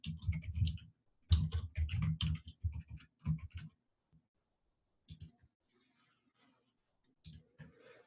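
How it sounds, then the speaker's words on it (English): Typing on a computer keyboard, quick bursts of close, crisp key clicks in uneven runs, then a pause and a few scattered taps. "here is where we can type in some text"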